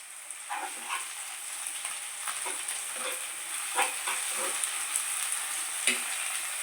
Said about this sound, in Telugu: మళ్ళీ ఒక 2 నిమిషాలు బాగా ఫ్రై చేసుకుందామండి.